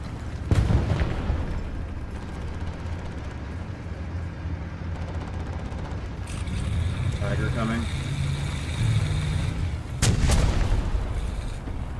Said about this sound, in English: Jeez, so much explosions.